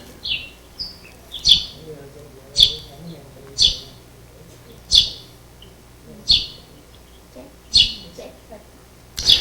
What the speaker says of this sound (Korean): 저런 새소리가 가끔 막 듣기 싫다고 막 하는 분들도 있는데